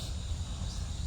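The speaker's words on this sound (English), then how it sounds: "You can probably also hear the cicadas that are out." Cicadas drone outdoors in a continuous, even buzz that holds steady through the brief moment with no pauses, fairly loud and enveloping, with no voices.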